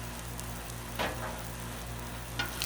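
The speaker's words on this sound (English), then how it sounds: "Just to toast the insides." Steady sizzling of bagel insides toasting on a hot Blackstone griddle, with a low hum underneath and a couple of brief louder crackles.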